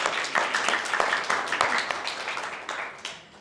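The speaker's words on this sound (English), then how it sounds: "Please give a big round of applause to Casper" A pitch-night audience applauds a speaker taking the floor, a burst of many hands clapping at close range that swells briefly and then tapers away to quiet.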